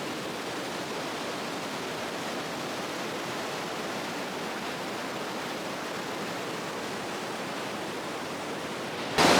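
Austrian waterfall roaring nearby, a dense, steady broadband rush of falling water that fills the whole span without letup, loud and close, with no voices.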